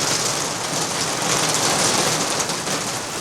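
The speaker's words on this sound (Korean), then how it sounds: "세찬 장맛비가 내리고 있습니다." Heavy monsoon rain pours down steadily outside a detached country house, a dense, loud, continuous hiss of drops on surfaces with no talk.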